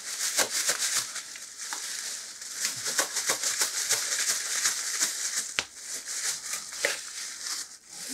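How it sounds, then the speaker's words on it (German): A gloved hand kneads a food mixture, making close, irregular crinkling and squishing crackles as the plastic glove rustles and the mass is worked. "jetzt den Handschuh mal anziehen und das Ganze dann knetend 5 Minuten lang"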